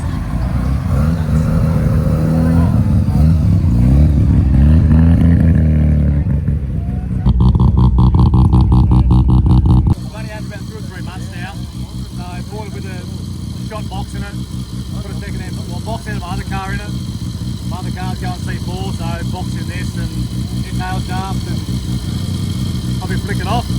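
A rotary-engine car revs hard for several seconds, drops briefly, then settles into a choppy, burbling idle with a rapid pulsing rhythm, loud and close, under occasional talk.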